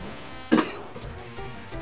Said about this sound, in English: Hate coughing in the middle of recording.